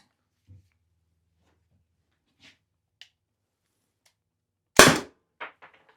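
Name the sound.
Byrna CO2 launcher firing shots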